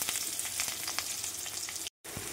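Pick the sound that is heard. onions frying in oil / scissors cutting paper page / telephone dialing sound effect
onions frying in oil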